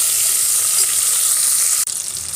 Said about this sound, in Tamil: 4 பச்சை மிளகா, கொஞ்சம் கருவேப்பிலை, ஒரு 5-6 பூண்டு போட்டு நல்லா வதக்கிக்கலாம்.